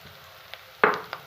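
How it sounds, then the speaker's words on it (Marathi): Garlic, cumin and mustard seeds fry in a pan for a spiced cabbage dish. The sizzle is soft and close, with a sharp clatter of stirring and a few light ticks. "आपला आता लसूण व्यवस्थित भाजलेला आहे बघा, लसूण जिरं मोहरी"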